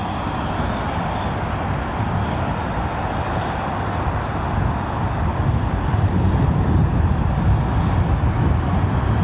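An Icelandair Airbus A321 jet at London Heathrow Airport gives a broad, steady roar that swells slightly toward the end, continuous and fairly loud with no talking over it.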